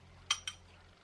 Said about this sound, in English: I do have a fork to stir that up